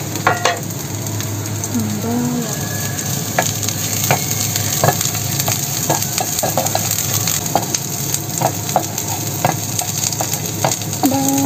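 Garlic sautés in a pan with a steady, loud sizzle, while a spatula stirs and scrapes at an irregular rhythm. A voice speaks briefly.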